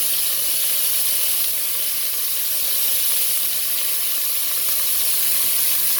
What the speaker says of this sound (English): Turn the fan on.